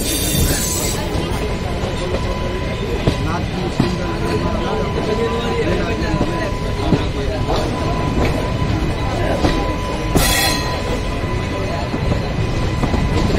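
A train arriving at Junagadh Junction during the Lili Parikrama pilgrimage crowds, heard as a loud continuous rumble of wheels and carriages with a brief high screech, under a busy wash of crowd noise.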